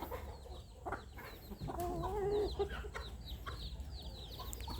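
Burmese chickens clucking at a farm: quiet, slightly distant clucks and a short warbling call from the hens over low outdoor background noise, with scattered soft chirps from other birds.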